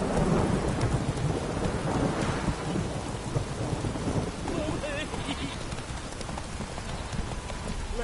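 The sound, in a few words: heavy rain downpour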